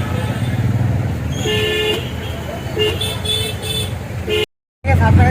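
Car horns toot repeatedly in busy traffic, short bursts over engine rumble and a voice talking nearby.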